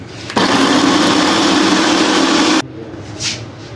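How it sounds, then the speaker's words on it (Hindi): An electric grinder runs on a spinach and chicken kofta mixture, a loud whirring motor burst lasting about two seconds that then cuts off, followed by a fainter rustle. "अब इसे मैं करूँगी ग्राइंड।"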